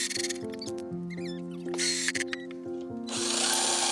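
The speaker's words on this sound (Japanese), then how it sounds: "必ず下穴を開けましょう。" A power drill bores pilot holes into very hard decking wood, giving a close, whining motor drone with shifting pitch and brief bursts of grinding as the bit bites.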